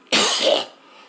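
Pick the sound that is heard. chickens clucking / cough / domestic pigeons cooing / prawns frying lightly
cough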